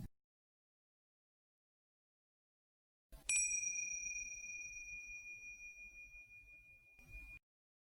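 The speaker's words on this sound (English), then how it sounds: "I'll start the practice by ringing the bell once to start and 3 times to finish." A single mindfulness bell is struck once after silence, ringing clear and close with a long, slowly fading sustain in a quiet room.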